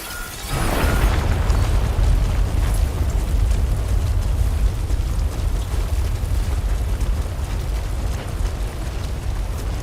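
A gatequake in the video game Death Stranding 2 sets off a deep, continuous rumble that bursts in with a sudden boom and then roars low and steady, heavy and close, with no voices.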